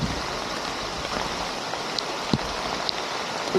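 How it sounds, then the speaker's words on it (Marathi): Heavy rain falls in a village, a dense steady wash of water with a few sharper drips and splashes nearby, constant in level and with no voices. "किती पाऊस पडतोय बघा जोरात पाऊस आहे गावामध्ये"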